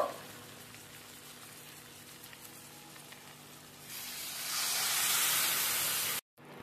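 Moong dal tipped into a pan of fried fish head for a Bengali dal; a steady low background swells midway into a loud, broad hissing sizzle that holds for a couple of seconds before cutting off, with no voices.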